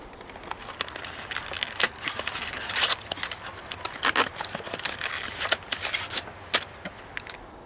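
Plastic packaging of a Bachmann BR maroon 50ft inspection saloon model railway coach being handled, giving close, continuous crinkling and crackling with sharp rustles and pops throughout, no voices.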